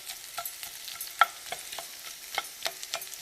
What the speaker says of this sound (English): Let it get a good fry in there for a couple of minutes